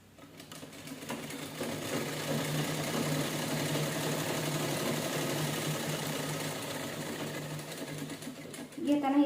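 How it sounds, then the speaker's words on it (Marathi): Sewing machine stitching diagonally across a cloth bag, a steady close motor whir with rhythmic needle chatter running throughout, picking up at the very end, while someone speaks over it. "असं तिरकसमध्ये शिलाई करून घेऊया."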